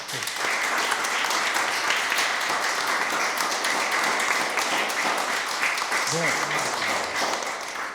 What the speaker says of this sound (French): applaudir Jacques